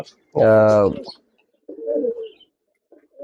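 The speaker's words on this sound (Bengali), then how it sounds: "তো দেখেন এই যে কবুতরগুলো আছে" A pigeon's throaty coo up close, one strong burst followed by a couple of softer, lower coos after short pauses, from a male pigeon.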